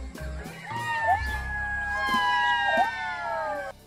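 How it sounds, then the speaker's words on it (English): A jackal's call: a long wavering high howl with rising and falling tones, sustained loud and close for about three seconds before cutting off. "Jackal."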